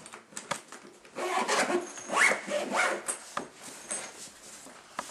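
Zipper on a black Superbags Turtle clarinet case being pulled closed, a close, loud raspy zip in several drawn-out strokes with some rubbing and handling noise, no talk.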